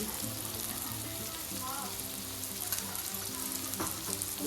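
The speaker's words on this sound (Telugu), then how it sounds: "2 స్పూన్లు ధనియాల పొడి వేసాను. తిప్పుతూ ఉండాలి." Bitter gourd frying with coriander powder in oil, a constant soft sizzle with occasional stirring scrapes, fairly faint and even throughout.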